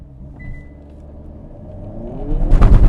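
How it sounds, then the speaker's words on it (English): A Hyundai Kona N pulls away under launch control, engine rumble building steadily to a loud, close roar near the end with a burst of sharp exhaust crackle. "did you hear that exhaust? Pop, pop, pop, pop, pop."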